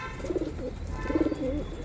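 A pair of Andhra breeding pigeons in a Kolkata loft coo in two rolling, throaty phrases, close and clear, with a short pause between bouts.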